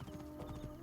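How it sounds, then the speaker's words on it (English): Horse hooves clip-clopping in the Assassin's Creed Origins video game, a quick steady trot of a few beats heard close and fairly quiet over a low constant hum, with no talking. "let's call my horse"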